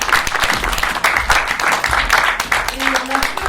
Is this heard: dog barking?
no